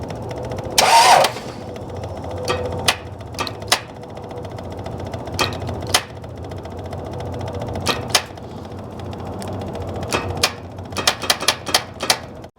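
A 1993 Dodge Ram with a Cummins diesel engine, abandoned for 18 years, cranks over in short repeated bursts, the starter clattering in close, uneven stabs separated by pauses rather than catching and running.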